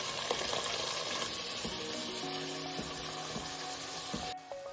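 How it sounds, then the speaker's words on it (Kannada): Fenugreek leaves fry in hot oil for masala chitranna, giving a dense, steady sizzle with soft stirring scrapes, loud and close, with no talking. "ಮೆಂತ್ಯ ಸೊಪ್ಪು ಫಸ್ಟಲ್ಲೇ ನಾವು ಎಣ್ಣೆಲಿ ಫ್ರೈ ಮಾಡ್ಕೊಂಡಿರ್ಬೇಕು"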